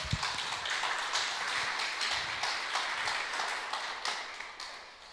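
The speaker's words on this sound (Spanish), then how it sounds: "Den un aplauso al Señor" A church congregation claps in steady, even applause for the Lord, a broad wash of many hands filling the room, loud and continuous with no speech over it.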